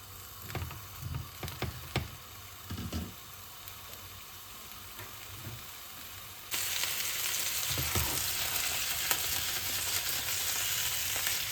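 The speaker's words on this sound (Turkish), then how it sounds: "Burada patatesim kızarıyor." Potatoes frying in oil in a pot sizzle softly under a few clinks and stirring knocks, then the hiss suddenly swells into a loud, steady crackle.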